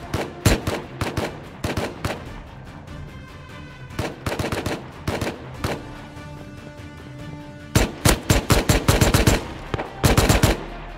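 Gunfire in the game Rust, with sharp close shots fired in irregular bursts and single cracks across the whole stretch, building to a rapid cluster of shots near the end.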